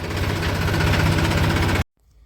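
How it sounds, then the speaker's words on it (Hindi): A tractor engine runs in second gear out on a farm field, a loud, steady mechanical drone with rapid rhythmic knocking that cuts off abruptly near the end, leaving only faint background noise. "तीसरे के हिसाब से झटके मार रहा है ट्रैक्टर, तो इसे दूसरे में करेंगे। अब दूसरे में नॉर्मल चलेगा"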